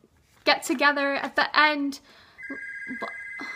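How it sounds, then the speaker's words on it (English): A home telephone rings partway through, a steady electronic ring tone starting after someone talking and continuing under further talk. "The phone rang in the middle of my video."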